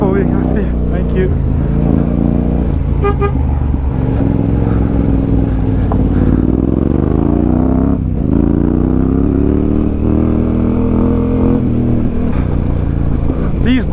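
Motorcycles climb a mountain road between Skardu and Deosai, a steady engine drone with rising and falling revs running throughout, with people talking over it.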